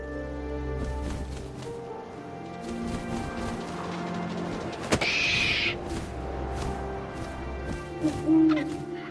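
Owl hoots sound over a busy background of wind and ambience, used as a sound effect in a spoken story, soft and distant with a brief crackle partway through.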